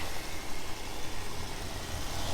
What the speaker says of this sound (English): the exhaust exits through dual pipes out the back, and the appropriate muscular sound is there